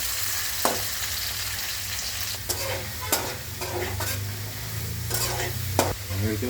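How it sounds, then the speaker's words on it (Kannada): Field beans (avarekalu) and peanuts fry in ghee over a low flame, a constant soft sizzle broken by occasional close scraping stirs of a spoon against the pan. "ಅವರೆಕಾಳು ಕಡಲೆ ಬೀಜ ಎರಡನ್ನೂ ಕೂಡ ತುಪ್ಪದಲ್ಲಿ ಬೇಯಿಸ್ಕೊತಾ ಇದ್ದೀನಿ"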